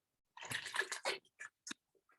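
About three cups of water splash and pour briefly into a blender over hemp hearts, close and quiet, ending in a few scattered drips.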